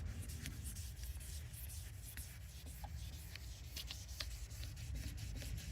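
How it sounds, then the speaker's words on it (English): A headlamp lens being wet sanded by hand with 3000 grit sandpaper, giving a soft, steady scrubbing rasp with faint repeated strokes, close and continuous, no talking. "now we use our 3000. Again, this is wet sanding sandpaper"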